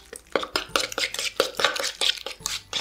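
Egg being mixed into soft cheese in a bowl by hand with a utensil, for cheese and semolina dumplings: a steady run of close, sharp scraping and clinking strokes against the bowl, about three per second, with no talk.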